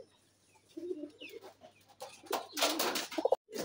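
Young Raj Golla pigeons coo in short, close bursts, soft at first and then louder and more clustered, with brief clucking-like notes and handling noise.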